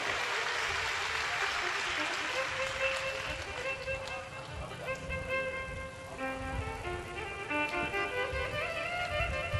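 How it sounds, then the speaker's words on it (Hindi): A large audience at a Shiv Mahapuran katha claps loudly and continuously for Shiva, the dense applause mixed with music and a voice running underneath. "एक बार जोरदार ताली बजाओ मेरे शिव बाबा"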